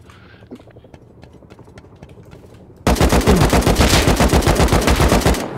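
Rapid automatic gunfire in Rust during a raid on a 5x server erupts suddenly after a quieter stretch of faint clicks and footsteps, then pounds loudly and continuously for several seconds before cutting off.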